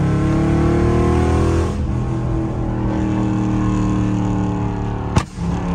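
A Dodge Charger Scat Pack with a loud exhaust roars as it accelerates hard, a deep booming engine note that drops slightly and steadies, heard close from inside the car, ending with a brief thump; no talking.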